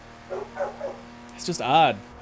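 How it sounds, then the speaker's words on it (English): Several dogs bark and yip nearby while someone talks over a driving video game, the barks rising loud and strained toward the end. "Also, sorry my dogs are barking again."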